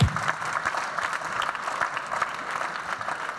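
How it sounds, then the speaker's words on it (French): Audience applause at a French live talk-show event for an insurance executive's entrance, an even wash of clapping from a seated crowd lasting a few seconds. "Je vous demande d'applaudir sans plus tarder Jean-Laurent Granier"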